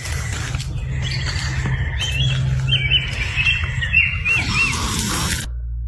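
Bird chirps and squawks ring out over a steady low hum and background noise, in a few short bursts of warbling calls before the sound cuts off abruptly.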